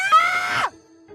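A person lets out a single loud, high-pitched scream lasting about half a second, close and strained, then it breaks off into quiet.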